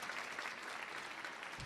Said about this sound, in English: Yes, you can definitely applaud the Peace Corps.